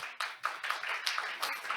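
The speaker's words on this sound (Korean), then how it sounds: "우리나라 게임 문화 발전을 위해서 항상 힘쓰고 계신 하태경 의원님께 큰 박수를 부탁드리겠습니다." Applause at a Korean forum on games and academic achievement for lawmaker Ha Tae-kyung, a few hands clapping in a sparse, rhythmic pattern, fairly quiet and distant.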